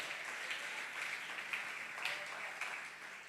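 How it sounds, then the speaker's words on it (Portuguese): A church congregation claps together in a dense, steady patter of overlapping hands that stays fairly even and moderately loud across a few seconds, with no voice heard over it. "Aplauda ao Senhor."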